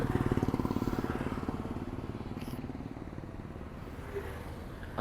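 A Yamaha R15 motorcycle that fails to start, with a rhythmic chugging engine sound, loud at first and gradually weakening, like a starter cranking an engine that will not catch, heard close and with no talking.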